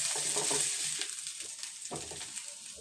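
A spatula stirs a spiced filling with chili powder in a pan, making soft scraping strokes in bursts over a quiet, low sizzle.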